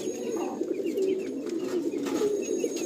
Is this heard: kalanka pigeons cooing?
yes